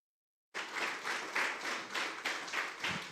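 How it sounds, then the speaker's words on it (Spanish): A church congregation breaks into applause after a short silence, a sustained burst of many hands clapping with gently pulsing swells, moderately distant. "Un mejor aplauso al Señor."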